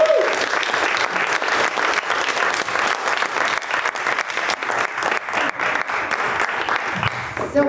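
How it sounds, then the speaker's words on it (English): Sustained, loud round of applause from an audience at an intergenerational storytelling event honoring seniors and students, continuous crisp clapping for several seconds before tapering slightly at the close. "Please give them a round of applause, please."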